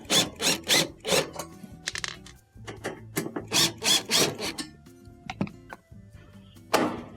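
A Phillips screwdriver backs out the screws on the back plate of a Maytag stove that covers the terminal block and wiring. Close-up, repeated short rasping, grinding bursts come in quick runs, with small knocks between them and no talk.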